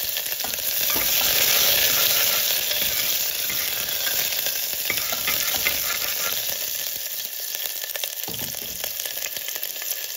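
Finely chopped onion fries with cumin seeds in hot oil, a loud, dense, continuous sizzle with scattered crackles and stirring, close by, lasting about ten seconds without speech.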